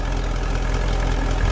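A 1957 Buick Roadmaster convertible's V8 engine gives a steady, loud, low rumble with dense broadband exhaust noise and no clear rise in pitch, close up, with no talking.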